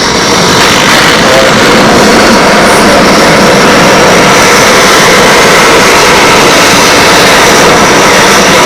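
A blower runs on an RC scale jet after its flight, making a loud, continuous, even roar that fills the whole stretch with no talking.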